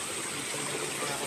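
Spring water or a small waterfall streams beside a cave entrance, a soft, steady rushing hiss that runs unbroken through the brief moment at a moderate distance, with no voices over it.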